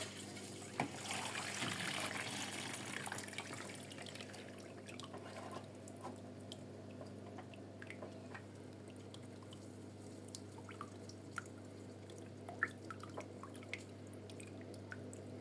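Water draining from a washing machine drum during cleaning, heard as faint trickling and scattered drips over a low steady hum, quiet and continuous.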